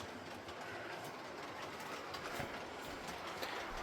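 A model Class 90 locomotive hauling Mark 3 coaches rolls past on a layout, producing a steady close rumble with light clickety-clack from the wheels throughout, heard alone.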